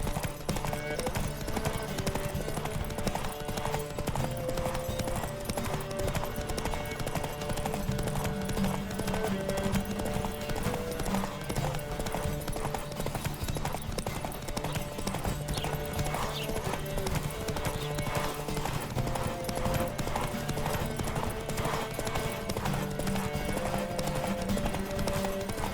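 A horse gallops in Witcher 3: Wild Hunt during a race, its hooves pounding in a fast, even, continuous clip-clop over steady game music, with no voices.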